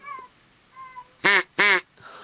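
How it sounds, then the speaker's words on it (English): A duck gives two loud, close quacks in quick succession, each a harsh nasal burst, after a couple of faint tonal chirps in an otherwise quiet space. "It's a duck."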